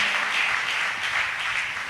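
Church congregation at a Voice of Grace prayer meeting clapping hands in a dense, continuous round of applause, steady and fairly loud with no voices over it.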